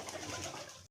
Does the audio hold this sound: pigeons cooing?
yes